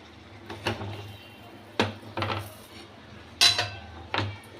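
A pan of spice tempering is stirred and shifted aside, with a few sharp metallic clanks and scrapes spaced apart against a quiet low hum, close by.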